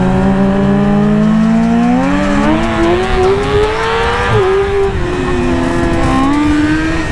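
A motorcycle with an aftermarket exhaust pulls hard through rising revs, loud and close, its engine pitch climbing, dipping briefly at a shift, then climbing again over steady wind and road rumble.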